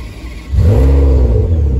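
A Ferrari 599 V12 engine cranks and fires up, then rises into a loud, deep revving roar that holds steady, close by.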